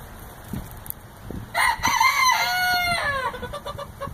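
Silkie and barred rock chickens call close by, with a rooster crowing loudly over soft clucks and scratching.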